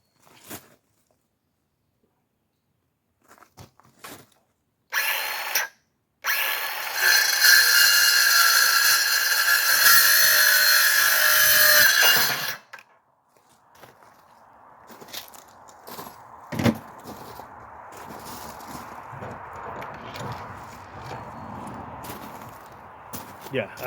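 A rattan sword for medieval armored combat is cut, with half an inch taken off in a loud, steady rasp lasting about seven seconds. Brief handling noises come before it and quieter knocks and speech after.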